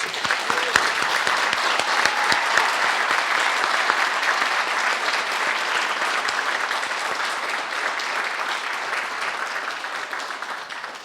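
Sustained audience applause for graduates at an evening convocation and awards ceremony, dense steady clapping from a large crowd filling the room throughout, loud and continuous with no talk over it.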